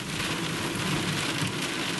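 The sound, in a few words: thunder and rain during a storm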